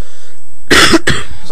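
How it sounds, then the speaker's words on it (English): A man clears his throat with two short, harsh bursts close by, with a brief pause between them. "sorry, just clearing my throat."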